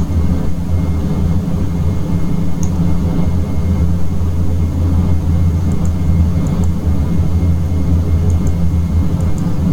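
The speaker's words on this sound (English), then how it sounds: "That was our takeoff." Inside the cabin of a Dash 8 Q400 turboprop just after takeoff, a loud, steady engine drone and deep rumble fill the space continuously, with faint high tones flickering above it.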